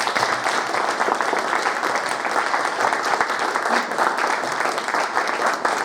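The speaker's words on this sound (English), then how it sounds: "Please give a round of applause for our panelists" Steady, loud audience applause fills the hall at a retro gaming expo talk in Blackpool, dense clapping continuing evenly without a break for the panelists.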